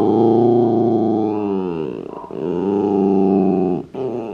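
A Dachshund growls in a long, continuous, close rumbling snarl that rises and falls in pitch, with a brief break near the end.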